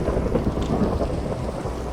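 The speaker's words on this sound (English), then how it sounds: "Yeah, still thundering, which is great." Thunderstorm in the Minecraft video game: a steady, loud wash of rain and low rumbling thunder holds throughout, with no voices over it.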